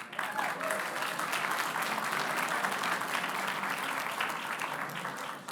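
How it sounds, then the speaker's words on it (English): Sustained applause from the audience at a startup accelerator launch event in Texas, a dense, steady roar of clapping filling the room for several seconds with no pause. "So I want to give them a round of applause."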